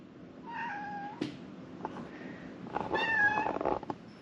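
A cat in a workshop meows several times, a drawn-out, whiny first call followed by a few shorter, louder, strained meows, close to the microphone, with faint clicks between them and no talking.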